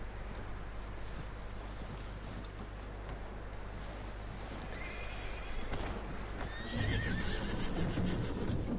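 A horse whinnies in the video game Red Dead Redemption 2 over steady hoof clopping and rustling, louder toward the end as the movement picks up.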